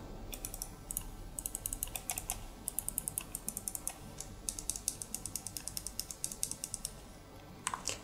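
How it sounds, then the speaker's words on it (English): Clicky D-pad and L1, L2, R1, R2 shoulder buttons on a GameSir X3 controller are pressed in quick bursts of sharp, light clicks, close but faint, with short pauses between runs and no talk. "The D-pad is also changed, and it's now clicky as well."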